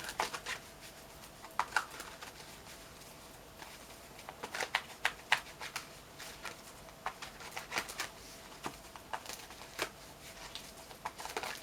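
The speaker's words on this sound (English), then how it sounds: "So let's pull some more cards and deepen these messages up." Tarot cards are shuffled and drawn by hand, a series of soft close riffling flutters and light slaps coming in irregular bursts, faint and with no voices.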